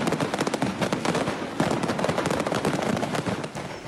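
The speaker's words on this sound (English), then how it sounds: "the sky over southern Russia has erupted in colour when a fireworks factory caught fire" Fireworks going off at a burning fireworks factory in southern Russia, a dense rapid crackle of bangs and pops in quick bursts that carries on without a break.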